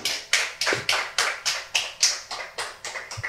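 A church congregation applauds in strong, rhythmic unison claps, about a dozen even beats, loud and close with no talk over them.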